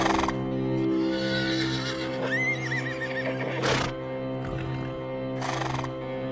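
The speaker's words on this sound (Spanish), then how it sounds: "Su hambriento animal relinchaba sin descanso y de una forma casi sobrenatural, y Birch hubiera deseado que estos cesaran." A hungry horse neighs repeatedly in a whinnying call, with a loud wavering whinny near the middle and bursts of breathy snorting, over a steady low droning hum.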